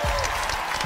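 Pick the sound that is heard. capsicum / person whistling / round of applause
round of applause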